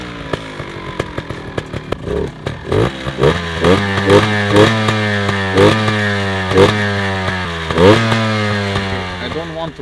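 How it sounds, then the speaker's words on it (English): A two-stroke motorbike engine sputters to life on a cold start, catching after a few clattering pulls, then idling with a rapid, buzzy rhythmic putter and a few short revs, loud and close; a voice speaks briefly. "It has a pretty nice 2-stroke sound."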